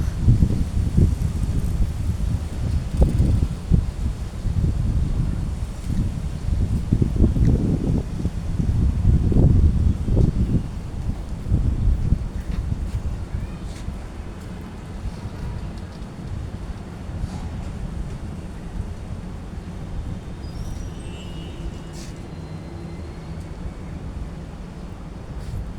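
Steady outdoor wind rushing and buffeting, strongest in the first half and easing to a softer, continuous roar later, with no voices.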